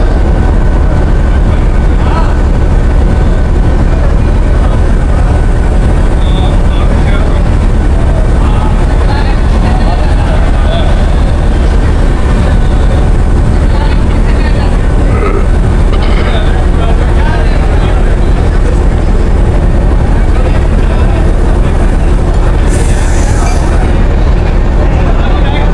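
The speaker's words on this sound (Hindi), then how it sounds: "Ji on time departure new सुबह खराम रेल कार 104 डाउन।" Subak Kharam railcar 104 Down pulls out of platform 3 at Rawalpindi on its first run with a new rake, a steady loud rumble of the train and station din lasting throughout, with people talking nearby.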